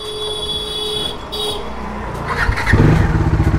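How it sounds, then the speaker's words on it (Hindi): A motorcycle engine idles steadily with a low rumble, then grows louder and rougher toward the end as it revs up close by. "this sound of this bike man, I just love it so much"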